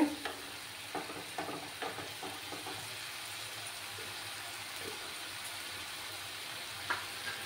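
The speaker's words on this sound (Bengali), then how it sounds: "টমেটোর যতক্ষণ না কাঁচা গন্ধটা যাচ্ছে ততক্ষণ কষিয়ে নিতে হবে" Chopped tomatoes stir-fried and mashed in a hot pan, a steady loud sizzle with scraping spatula strokes across the first few seconds, no voices.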